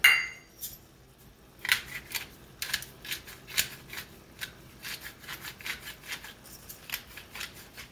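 A pepper mill grinds black pepper over beef stroganoff in a pan, giving a close, scratchy run of rapid crunching twists in short bursts.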